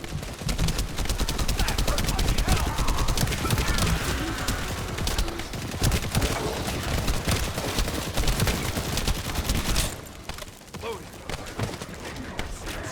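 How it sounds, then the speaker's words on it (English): A machine gun rattles in a rapid, nearly continuous stream of shots during a fight in the looter shooter The First Descendant, loud and close, then cutting out abruptly to quieter background noise near the end. "Let's get this new machine gun run."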